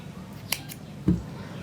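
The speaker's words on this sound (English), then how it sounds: "To close the crown, you're going to cut your yarn" Scissors cut yarn to close the crown of a crocheted textured beanie: one quick, faint snip, then a soft low thump a moment later, with quiet room tone throughout.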